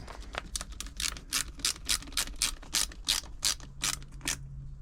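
A screwdriver turns screws on a Janome JD1822 sewing machine cover, a close, rhythmic series of clicking, ratcheting turns with short pauses between them.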